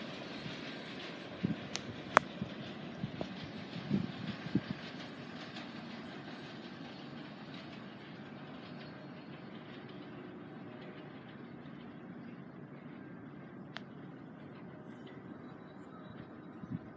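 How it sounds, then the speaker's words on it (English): An early-morning CN freight train led by locomotive 2226 and carrying logs rolls past at a distance, a low, steady rumble with scattered wheel clicks and clanks over about seventeen seconds. "Nice early morning train."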